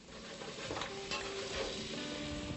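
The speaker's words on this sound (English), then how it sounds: "I gently sweat the squash without browning it, and I stir a little now and again." Squash sweats gently in a pan, giving a soft continuous sizzle, and a utensil scrapes and stirs through it now and then, close and fairly quiet, with no talking.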